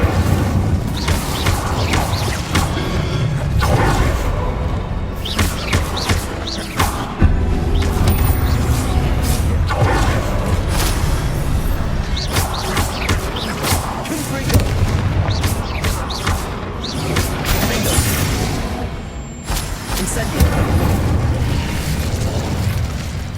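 Spell effects in Hogwarts Legacy, including an Incendio fire spell, burst as repeated booming blasts and whooshes over layered game audio, loud and dense throughout.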